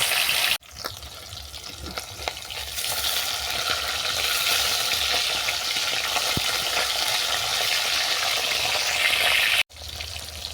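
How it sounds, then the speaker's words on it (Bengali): Hilsa fish coated with salt and turmeric frying in hot oil, a dense continuous crackling sizzle heard close up and alone, with a couple of brief cuts in the sound. "এরপর মাছের মধ্যে আমি লবণ হলুদ মেখে ভেজে নেবো।"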